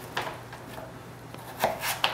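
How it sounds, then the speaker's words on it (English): A knife slicing butternut squash into strips on a board, with a few sharp, separate cutting thuds spaced irregularly and close up. "I'm just gonna cut it in strips"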